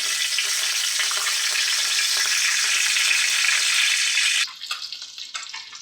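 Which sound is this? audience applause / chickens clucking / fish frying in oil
fish frying in oil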